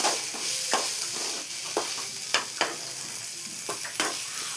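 Tomato sautéing in a pan, a steady sizzle punctuated by a series of sharp spoon scrapes and taps against the pan at uneven intervals, with no talk.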